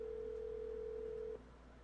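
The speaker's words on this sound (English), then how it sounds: "I'm gonna dial her phone number right now and get her on the phone" A steady, quiet telephone dial tone hums on one pitch for over a second, then cuts off abruptly.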